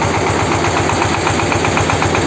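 A ZIL 130 truck engine idles with its power steering pump working. It gives a loud, steady, close rumble with an even pulsing rhythm and no talk over it.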